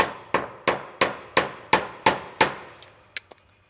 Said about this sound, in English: use a pair of pliers and gently tap it with a hammer